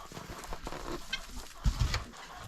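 A gentle Brahma rooster clucks and grunts in short low bursts close by, with a louder cluster of low calls toward the end over quiet background noise.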